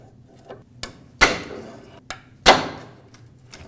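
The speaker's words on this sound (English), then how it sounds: "with a pry bar and a hammer. Just punch it and it'll break off" Sharp metallic hammer strikes on a pry bar breaking off a metal retainer on a 2009-2010 Dodge Ram 1500 bellows boot, two loud ringing blows among several lighter taps, close up.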